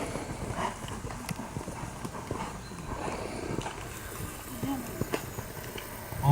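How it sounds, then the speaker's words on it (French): A horse trots in a dressage arena, hooves landing in a steady, even clip-clop rhythm at moderate distance, while a voice talks over the hoofbeats. "Entre K et H, développer quelques foulées de trot."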